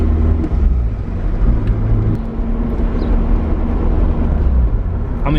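A Nissan 240SX driving in fourth gear, with a steady, loud engine and road rumble that holds without a break for the whole stretch.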